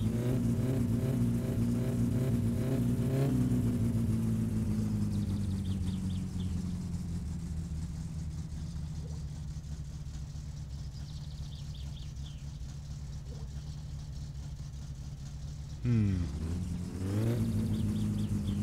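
In My Summer Car, a car engine idles steadily up close while warming up, holding a low, even hum. The engine briefly revs and dips near the end.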